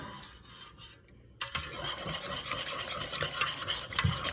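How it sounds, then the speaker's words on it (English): Flour mixture whisked in a cooking pot while making Cajun seasoning, a steady close scraping and rubbing rasp that starts after a short quiet pause and continues without letup, with no talking. "Making sure that I whisk it up in between, making sure that the flour is all mixed in real good"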